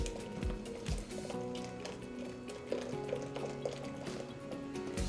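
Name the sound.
tempered pudding mixture poured back into saucepan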